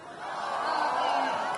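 A stadium crowd at a presidential campaign rally for Anies Baswedan at Stadion H Agus Salim in Padang lets out a brief, swelling roar of shouting voices that holds steady and fills the space.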